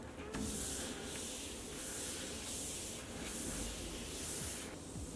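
Antibacterial spray misting over a medication trolley in repeated hissing bursts, roughly one per second, fairly soft and close with no voices.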